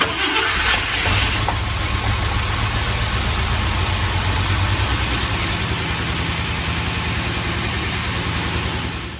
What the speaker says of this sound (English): she ran under her own power, idled.